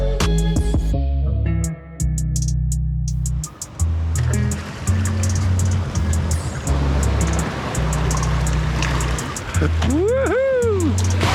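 A motorized boat's engine drones loudly and steadily while the hull sloshes and splashes across the water in the Philippines. Voices and cheers are heard briefly over the engine noise.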